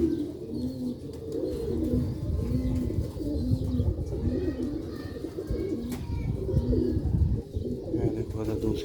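Sialkoti pigeons coo steadily in low, rolling repeated phrases, close and continuous throughout, with some chirping and background murmur mixed in.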